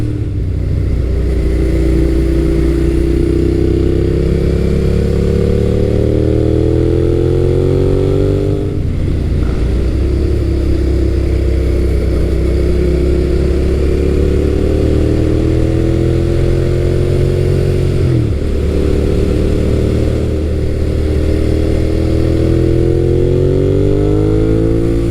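Naked motorcycle engine accelerating hard in a shootout of Suzuki SV650, GSX-S750, Yamaha FZ1, Kawasaki ZRX1200R and Z900RS, rising through the revs with two gear changes, loud, steady and close, alone without talk.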